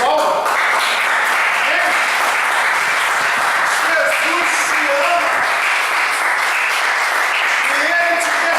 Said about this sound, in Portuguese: Posso ouvir uma salva de palmas?